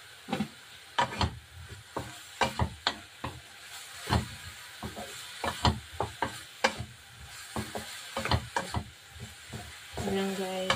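Eggplant seasoned with black pepper and salt stir-frying in a pan, a quiet sizzle broken by repeated scraping and stirring clatters at an uneven rhythm.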